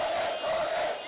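A crowd of thousands protesting in Myanmar's capital chants and shouts together, a loud, sustained roar of many voices heard at a distance.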